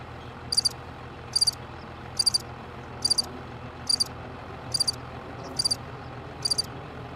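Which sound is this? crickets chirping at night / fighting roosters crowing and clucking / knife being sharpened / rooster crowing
crickets chirping at night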